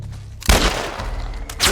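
Gunfire in a zombie video game: a sharp shot bursts out after a brief lull, followed by a rumbling tail and a second blast near the end, with little talk.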